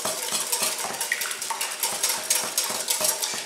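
Three large eggs are whisked in a bowl for a squash pie custard, giving quick rhythmic clinks and scrapes of the whisk against the bowl, steady and close, with no voices.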